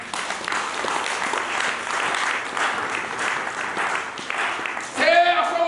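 A church congregation claps together in praise of the Lord, a dense, continuous wash of applause filling the room, swelling louder near the end as voices rise over it.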